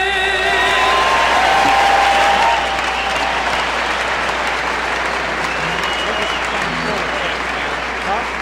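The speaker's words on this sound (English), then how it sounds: "Can you hear them clapping in our ears?" A college basketball crowd at Indiana versus Illinois claps and cheers loudly right after the national anthem, a dense continuous roar of applause with voices mixed in.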